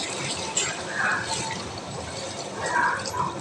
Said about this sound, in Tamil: இந்த டைமில் நம்ம தண்ணி ஆட் பண்ணிக்கலாம்.